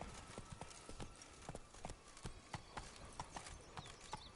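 Roach the horse trotting in The Witcher 3, hooves striking the ground in a quick, steady clip-clop rhythm, close and distinct over a faint ambient background.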